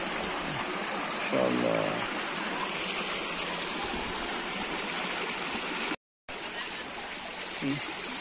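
Flood water from a flash flood, diverted by residents, rushes and gurgles steadily nearby in a constant broad wash, with a brief voice and a short dropout partway through.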